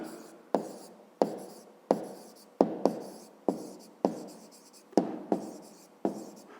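Handwriting on paper during a fifth-grade maths exercise, heard as a series of close, distinct pen strokes, each a sharp scratch that tails off, repeating in an uneven rhythm with no voices.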